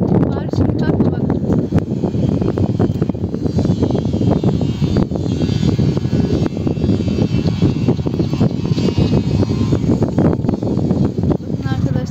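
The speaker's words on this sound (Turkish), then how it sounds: "Rüzgar rüzgar sallıyor onu orada." Loud, constant wind buffets the microphone with a rough roar, steady throughout with no break.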